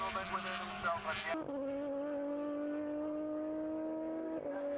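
Formula BOSS single-seater race car lapping a circuit in an Irish championship race, pushing out over the kerbs: a loud, sustained high-pitched engine drone that shifts pitch sharply after an early gear change, held steady at close range.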